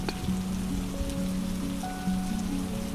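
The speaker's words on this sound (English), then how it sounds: "The stories may come to an end, but the thunder and rain will linger a little longer" Steady rain pattering on a surface in a calm sleep soundscape, continuous and even, with faint soft tonal music drifting underneath.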